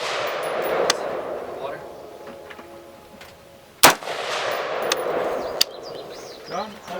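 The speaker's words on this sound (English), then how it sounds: "Now we were just shooting at 50 yards to really sight this in" Rifle shots ring out while sighting in a Vortex Spitfire scope at 50 yards with .223 55-grain V-MAX ammunition: a few sharp, loud cracks spaced seconds apart, each trailing off into open-air echo.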